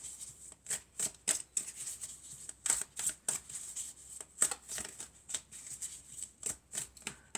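Oracle cards being shuffled by hand, a series of quick papery riffles and flicks coming in uneven bursts, close and fairly quiet, with no talking.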